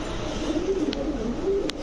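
Pigeons at a Bangladeshi pigeon market stall coo in a low, steady murmur, with a couple of faint brief chirps over continuous background noise.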